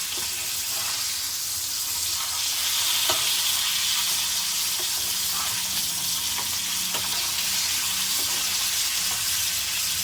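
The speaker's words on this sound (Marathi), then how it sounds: "पाच सहा मिनिटात आपली पापलेटं फ्राय होतात" Pomfret fillets fry in hot oil in a pan, a steady loud sizzle and crackle running without pause, with a few faint knocks from turning the fish.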